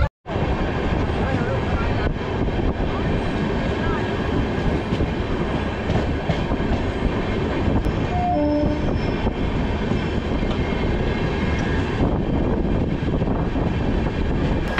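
A train running from Omkareshwar to Indore in India rumbles steadily along the tracks for the whole stretch, loud and continuous, with a brief quiet moment right at the start.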